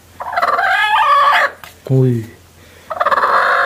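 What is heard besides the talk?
hen clucking angrily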